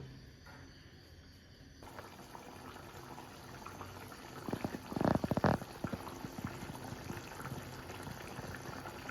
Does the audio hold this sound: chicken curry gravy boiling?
yes